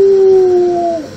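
A voice imitating a dog's howl: a single drawn-out, close, loud tone that holds steady and then falls away.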